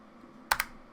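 Computer keyboard keys pressed while entering a value, two quick close clicks in a row against a quiet background.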